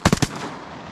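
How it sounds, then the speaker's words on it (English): Three quick shotgun blasts fired at ducks during a rainy-day duck hunt, loud and close in rapid succession, each trailing off into a fading echo. "Nice shooting. Good shooting."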